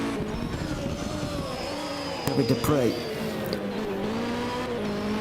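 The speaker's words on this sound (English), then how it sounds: "Very long looking Opel Ascona. Not the most agile through that chicane, but he's made it through." An Opel Ascona hill-climb car races through a chicane at a European Hill Climb Championship round in Ilirska Bistrica. The engine drones steadily with a brief burst of tyre squeal and revving, under continuous commentator talk.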